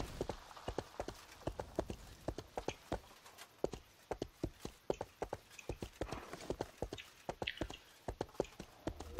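Rhythmic clip-clop of horse hooves from a mount in the RIFT video game, a steady quick trot of crisp hoof hits, fairly quiet and alone.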